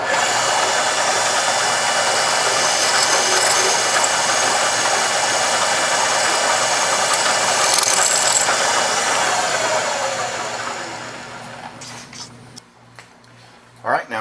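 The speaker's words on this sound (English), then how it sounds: "we're going to drill this hole" A power drill bores a hole for a DIY hole punch build, a steady loud whine running for about ten seconds before tapering off, followed by a few brief clicks and knocks.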